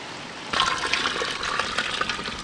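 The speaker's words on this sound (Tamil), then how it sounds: "தேவையான அளவு தண்ணி சேர்த்து" Water is poured into a cooking pot for chicken pulao in a village kitchen, a steady splashing gush that starts abruptly and runs on close by.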